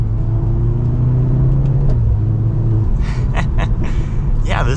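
A 2023 Mercedes-Benz C43 AMG 4MATIC sedan with a four-cylinder engine is being driven, giving a loud, steady low rumble of engine and road noise. Brief sharper bursts come near the end.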